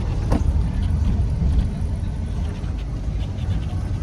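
1994 Chevrolet C1500 pickup truck driving, heard from inside the cab as a steady low engine and road rumble with faint rattles, no talk.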